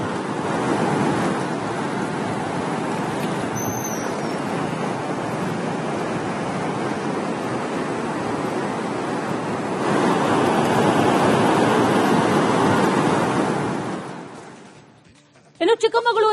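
The Vedavathi river in Chitradurga runs full after heavy rain, giving a loud, steady, broadband rush of flowing water with wind-like noise that swells slightly midway, then fades and cuts off abruptly at the end.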